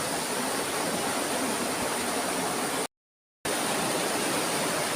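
A waterfall in the Philippines pours with a strong current, a loud, steady broadband roar that fills the whole clip, broken only by a brief total dropout near the middle.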